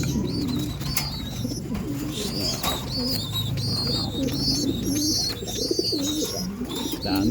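Many racing pigeons coo continuously inside a loft after a race, a dense, close chorus of overlapping soft warbling calls with occasional wing flutters.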